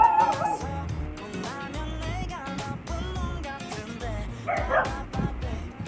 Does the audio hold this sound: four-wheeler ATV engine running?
no